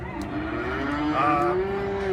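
Weaner cattle at a Hamilton cattle sale let out one long, loud moo that rises and swells over the low murmur of the saleyard.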